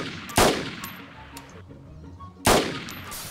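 Two loud, sharp gunshots in the DayZ video game, spaced about two seconds apart, each with a short echoing tail over faint background game noise.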